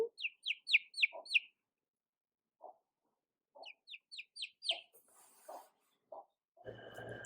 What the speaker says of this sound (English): Take, for example, these chicks.